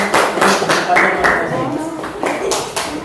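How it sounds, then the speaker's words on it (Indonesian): An audience claps for a second student group during a classroom session, with short bursts of clapping under a voice that keeps talking throughout. "Tepuk tangan dulu untuk kelompok kedua."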